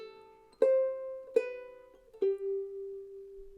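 A soprano ukulele picks a riff as single notes, with three distinct plucks that each ring and decay, the last one sustaining long, played close and quiet with no voice.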